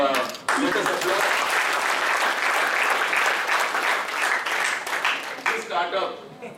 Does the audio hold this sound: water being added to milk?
no